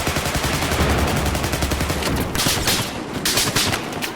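Sustained automatic gunfire in the Xbox One shooter Battlefield 4, loud and dense bursts with brief gaps and crackling shot impacts, no talk over it.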